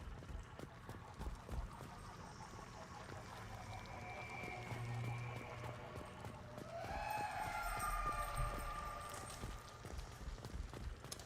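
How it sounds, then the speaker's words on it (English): Comet, a pet, stomps and runs across a floor in the Mass Effect 2 game, a rhythmic clip-clop of footfalls, fairly loud and steady, over a background of game ambience. "If you hear stomping running across the floor, it's actually Comet"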